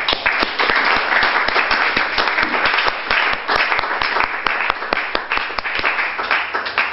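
A church congregation applauding God during a French-language sermon: dense, sustained clapping from a large crowd, loud and steady throughout, with faint voices underneath.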